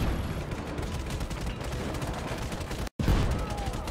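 Heavy sustained video game gunfire, a dense continuous barrage of rapid shots, loud and close, broken by a brief dropout before resuming.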